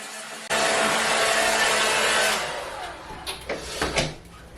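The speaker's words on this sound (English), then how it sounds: "And I'll blow dry it for the last time." A hair dryer blows on hair close by, switching on abruptly with a loud steady roar for about two seconds before dropping off, followed by a few soft knocks.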